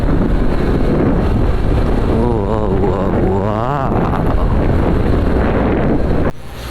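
Strong wind roars steadily across a microphone, loud and buffeting throughout, with a low rumble underneath and a brief dip near the end.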